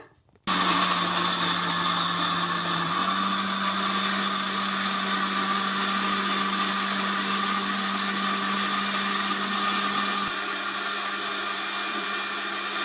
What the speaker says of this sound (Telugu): ఇప్పుడు మిక్సీ అయితే పట్టేసుకుందాం మెత్తగా